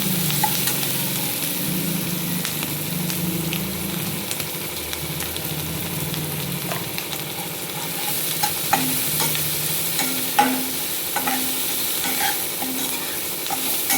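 Sliced onions cooked with turmeric and salt fry steadily in a pan, giving a dense, close sizzle under occasional scrapes and knocks from a stirring spoon.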